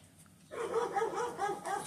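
A neighbor's dog barks repeatedly in a steady run of four or five barks, moderately loud and a little distant, heard through a quiet home.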